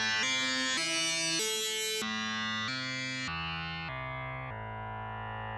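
Notes from the Roundwound sample library by Modwheel play with legato on, forming a smooth stepping line of gritty sustained tones, each gliding into the next and fading slightly quieter toward the end, with no voices.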